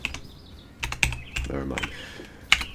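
A password is typed on a computer keyboard in scattered, close key clicks with pauses between, and a person says a few words partway through.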